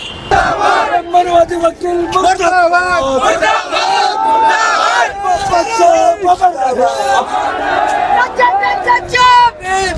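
Large crowd gathered on a ground for a Bhim Army rally in Gwalior, loud and close, with a steady roar of many voices, shouting and cheering throughout.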